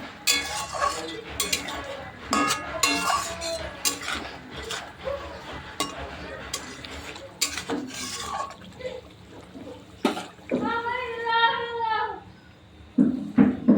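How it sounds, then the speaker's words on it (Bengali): Fish pieces are stirred and turned with spices in a pan. A utensil scrapes and rubs against the metal in repeated strokes, with a liquid bubbling underneath, and a voice is briefly heard near the end. "আর মাছগুলো মশলার সাথে একটু কষিয়ে নেব"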